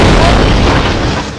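A loud explosion in the Roblox game Plunger Roulette, a dense, broad boom that fills the short stretch and slowly fades toward the end.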